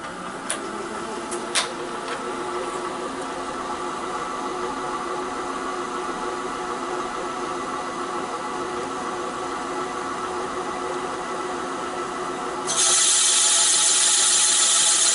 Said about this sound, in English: so you can see us hone and put the proper cross hatch in here